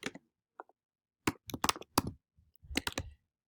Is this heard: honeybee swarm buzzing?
no